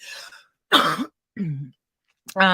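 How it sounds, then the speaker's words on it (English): A man coughs a few times, short harsh bursts with pauses between, close and fairly loud, with a throat-clearing quality. "Excuse me, I had to cough."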